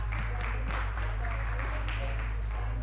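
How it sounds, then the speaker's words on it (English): An audience at a men's mental health and wellness event claps for the people who kept time, a loose scatter of claps over a steady low hum, with some crowd murmur mixed in. "We clap for you for keeping time."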